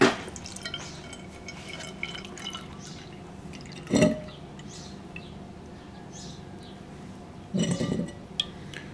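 Water poured onto a pot lid to seal a sauerkraut fermenting pot gives two short splashing, dripping bursts against a quiet room background, each lasting under a second.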